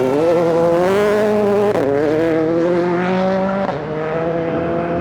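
A rally car racing on a stage at the Rallye Baie des Chaleurs, its engine loud and close, climbing in pitch through rising revs with two quick gear changes, then holding a strained, steady tone.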